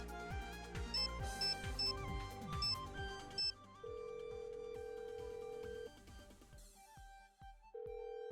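A phone call rings out in the Nancy Drew game Shadow at the Water's Edge, with a repeating electronic ringtone over melodic game music, followed by a sustained tone and a second ring near the end.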